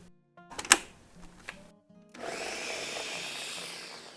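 A kitchen blender grinding red chili peppers, garlic and ginger with a cup of water, starting after a few clicks and knocks and then running as a steady, loud whirring grind.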